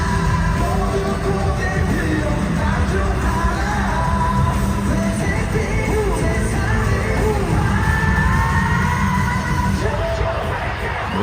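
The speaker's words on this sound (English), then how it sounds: "The crowd are absolutely loving it." Concert crowd at a live performance, a continuous roar of yelling and cheering mixed with loud booming music throughout.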